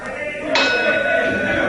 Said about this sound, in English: we're waiting now for the bell to ring